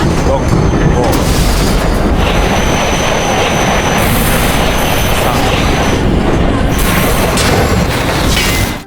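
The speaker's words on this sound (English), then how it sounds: "The slowing train derailed and exploded." A bullet train derailing and exploding after a detached car separates, heard as a loud, continuous roaring rumble with heavy booming and rushing noise throughout, cut off abruptly at the end.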